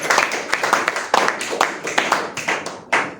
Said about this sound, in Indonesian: Yang keras dong tepuk tangannya.